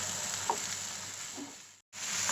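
Half a kilo of washed minced chicken sizzles and fries in a pan with garlic over a medium flame, a steady soft crackle with a few faint stirring clicks and no talk.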